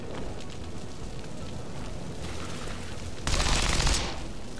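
A gunfire volley in the video game XCOM 2, heard as dense crackling shots over a steady rumbling battle bed that swells into a louder burst near the end.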